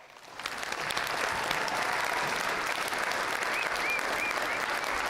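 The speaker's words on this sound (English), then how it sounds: "Give them a round of applause." Church congregation applause at a Lutheran Wednesday service in Rapid City, South Dakota, swelling quickly from quiet into a sustained, full roar of many hands clapping in a large room.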